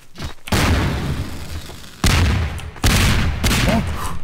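Melon bombs exploding in the video game Garry's Mod, a series of loud, sudden blasts, each cutting in sharply with a rumbling tail, several in quick succession.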